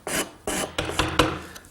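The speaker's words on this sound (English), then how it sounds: "take a block of wood with a piece of fine sandpaper and just sand it until I'm satisfied that I have a nice smooth tenon" A wooden tenon is sanded with fine sandpaper wrapped on a wood block, giving four or five close, brisk rasping strokes in a steady back-and-forth rhythm.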